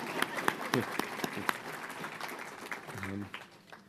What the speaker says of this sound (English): Yes, clap yourselves.